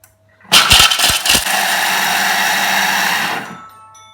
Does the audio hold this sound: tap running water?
no